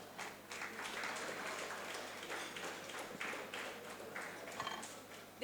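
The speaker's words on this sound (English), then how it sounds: "Please, can we welcome him with a clap?" Audience clapping at a legal session as a speaker is welcomed, a faint, distant patter of hands in uneven bursts that runs steadily for several seconds under a low room hum.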